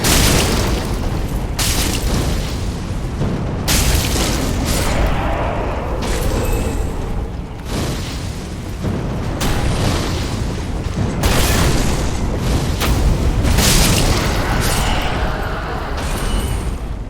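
Fire spell explosions keep booming in the Dark Souls game, a dense, loud run of blasts and bursts that rolls on without a break and with no talking.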